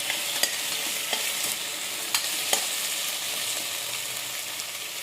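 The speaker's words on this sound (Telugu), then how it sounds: "ఒక టమాటా పెద్దది, 4-5 పచ్చిమిర్చి వేసి బాగా కలుపుకోవాలి" A large tomato and four or five green chillies are stirred into a sizzling pan for mutton curry. A soft, continuous frying hiss is broken by several sharp clicks of a spoon against the vessel. No one speaks.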